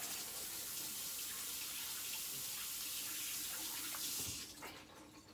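A kitchen tap runs steadily for a quick hand wash, a continuous splashing stream into the sink that is shut off near the end, quiet and close.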